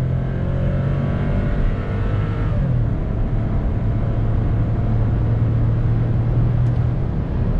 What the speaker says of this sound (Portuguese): Vamos dar mais uma saidinha aqui com ele, ó. Olha o torque que ele tem.